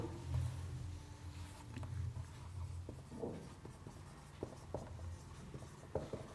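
A physics teacher writes on a board in a quiet room, producing soft scratchy strokes and light taps in a run of brief bursts against low background noise.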